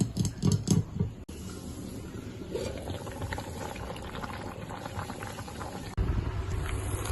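Fish curry bubbling in a covered pot, a steady close simmer with rapid burbling, louder and busier at the start and again near the end, with a brief clatter in between.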